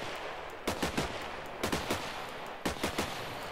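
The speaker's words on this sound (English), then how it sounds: "if I click, it does three shots for every click" Gunfire in the Minecraft WarField 3 mod, fired in three-shot bursts: three separate bursts of three sharp, loud shots each, evenly spaced over a low steady background hum.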